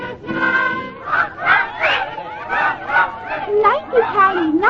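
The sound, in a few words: banquet guests cheering in radio drama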